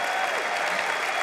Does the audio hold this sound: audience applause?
yes